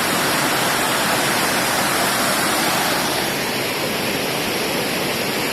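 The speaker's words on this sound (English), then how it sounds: "Welcome to the Talk Waterfall. It's about 3 or 4 kilometres after Muckcross House." Torc Waterfall on the Kerry Way near Killarney roars with a dense, continuous rushing of falling water, loud and close, steady throughout with no voices.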